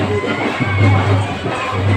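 Crowd of people at a temple festival during Rash Yatra, a dense close murmur of many voices with scattered shouts, steady and fairly loud throughout.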